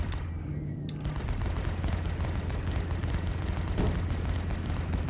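Ship weapons fire nonstop in the space game Star Citizen, aboard an Anvil F7A MKII fighter in combat with a Starfarer, a dense, loud stream of rapid gunfire with no clear gaps.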